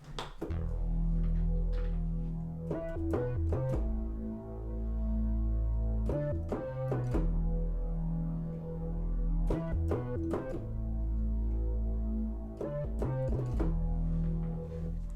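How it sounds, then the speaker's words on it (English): A pulse echo synth lead preset in Logic plays a full, bass-heavy sustained line with rhythmic stabbing notes that repeat in phrases every few seconds, heard alone at moderate volume. "this pulse echo lead"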